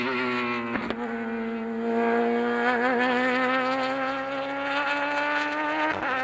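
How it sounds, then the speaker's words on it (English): A race car pulling out of a corner at Sydney Motorsport Park, its engine note climbing steadily as throttle is fed in, a high buzzing whine with a brief blip and gear change, loud and close, no talk. "Notice he's just feeding on the throttle there."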